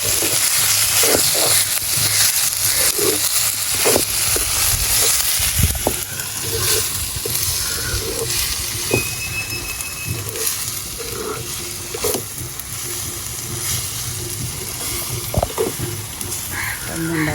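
A chili-powder masala frying in a pan gives off a loud, continuous sizzle while it is stirred. Frequent scraping clicks and taps from the stirring sit on top of the hiss throughout.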